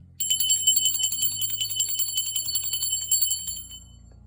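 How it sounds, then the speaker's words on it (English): A hand bell rung during a spiritual card-reading session for guides, angels and ancestors: bright, rapid metallic ringing that starts suddenly and keeps shimmering for about four seconds over a low hum, with no talking. "I'm going to ring the bell for my spirit guides, guardian angels, and ancestors."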